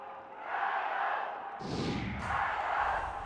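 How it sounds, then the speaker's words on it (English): A large stadium crowd at a China Sevens rugby match roars and cheers continuously, with a swell of excitement partway through. "this big crowd getting excited about that as we approach the halfway stage"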